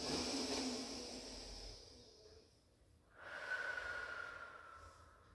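One deep breath during a Pilates stretch, heard close and soft: a long, airy exhale that fades to quiet before a fresh inhale through the nose begins, with no talking.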